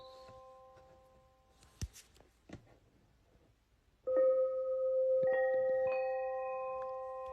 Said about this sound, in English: And your good old bell.